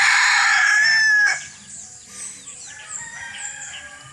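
A Gold Hatch gamefowl rooster crows one loud, close crow that breaks off after about a second, followed by quieter clucks and other bird calls in a yard setting.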